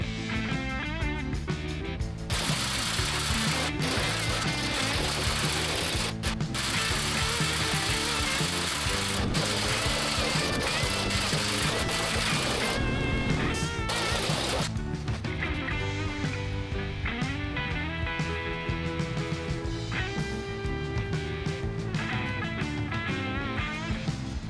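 A large power hammer pounds a Tesla door skin in a dense, continuous mechanical clatter. The noise is loud and steady, with brief dips in the hits.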